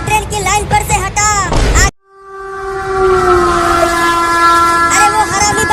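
A train horn sounds in a long sustained blast as a train approaches on the railway line, preceded by agitated voices, loud and near.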